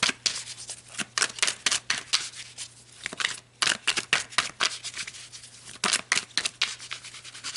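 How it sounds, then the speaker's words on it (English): Tarot cards shuffled close up in a quiet room, a steady run of crisp riffling and slapping bursts with short pauses between, no talking. "let's pull some more cards with these soulmates"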